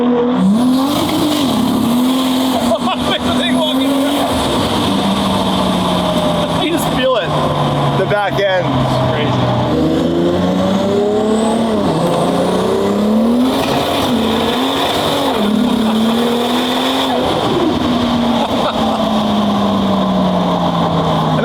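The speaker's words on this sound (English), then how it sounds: "nothing beats the blow-off valve noises with the flutter" A 1200 hp Toyota Supra accelerates hard on the road, its engine note rising and falling through gear changes with turbo blow-off valve flutter between shifts, loud and steady throughout, while a voice talks over it inside the car.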